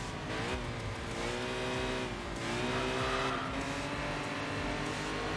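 A Nissan R32 Skyline GT-R racing in Enthusia Professional Racing, its engine droning steadily at high revs with rising and falling pitch as gears change, loud and continuous throughout with no talking.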